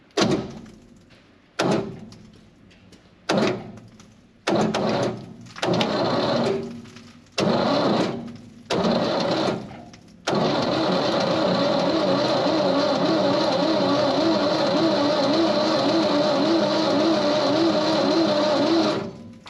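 A 1957 Chevy Bel Air convertible with a 283 V8, a barn find, cranks over in a string of separate bursts of churning starter whir, then a long unbroken stretch of steady, loud cranking.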